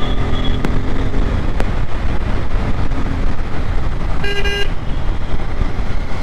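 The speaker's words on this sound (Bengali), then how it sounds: "এর হর্নটা বেশ জোরালো পালসারের" A Bajaj Pulsar N250 motorcycle's horn gives one short, loud honk over constant engine and wind noise while riding, with a brief faint toot earlier in the ride.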